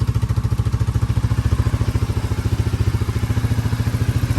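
A used four-wheeler ATV engine idling close by, a loud steady rapid thumping putter with an even mechanical rhythm and no talk.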